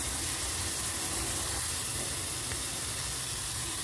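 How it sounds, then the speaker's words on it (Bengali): Cumin seeds and a ground spice paste sizzle in hot oil in a wok, giving a steady, close hiss that fills the whole moment without a break. "ওই কড়াইয়ের মধ্যে ফোড়ন দিচ্ছি জিরে আর ওই বেটে রাখা মশলাটা"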